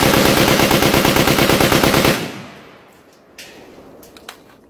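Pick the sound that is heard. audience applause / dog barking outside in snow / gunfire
gunfire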